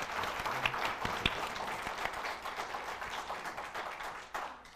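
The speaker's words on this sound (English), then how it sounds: "would you please give a big round of applause for our panel here?" An audience applauds a panel at a real estate agents' event, with steady clapping filling the room at moderate distance and no voices over it.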